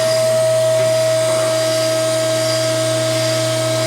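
A mandrel tube bender bends a frame rail tube for a 1947-1953 Chevy 3100 truck, giving a loud, steady hydraulic machine drone with a constant tone that runs unbroken and close.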